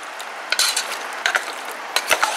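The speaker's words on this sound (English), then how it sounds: "And then you stir the pork and you can" Pork being stirred with brown sugar in a pan while cooking Filipino humba: irregular scraping and clinking of a utensil against the pan, a few sharper knocks among a steady soft sizzle, close and without talk.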